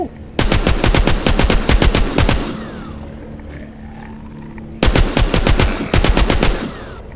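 A minigun fires in the zombie shooter The Walking Zombie 2 with two long, loud, rapid-fire bursts about two seconds each, separated by a quieter gap with lingering game ambience.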